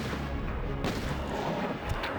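A magnum revolver fires at William Birkin in Resident Evil 2 (1998) with Leon, giving loud, heavy booms over a dense wash of game noise and echo.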